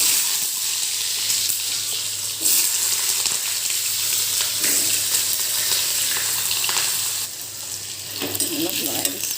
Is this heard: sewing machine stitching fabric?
no